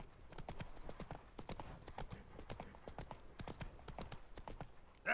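A horse's hooves clip-clop steadily at a walking rhythm in The Witcher 3 video game, clear and close, with no talk over them.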